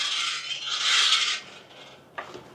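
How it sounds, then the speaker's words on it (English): An electric trike's chain guard scrapes as it is pedaled, making a loud, harsh rasping rub that fades out, followed by a brief metallic tick and softer scraping. "You can hear that scraping while I was pedaling."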